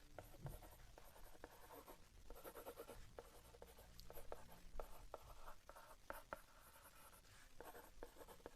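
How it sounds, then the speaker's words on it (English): A pencil scratches across a painted acrylic surface while signing a name, a close, quiet run of short scraping strokes with soft pauses between letters. "I can sign my name"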